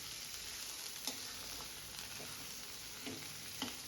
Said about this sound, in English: Then stir continuously until onion transparent.